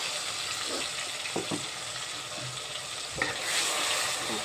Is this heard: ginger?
yes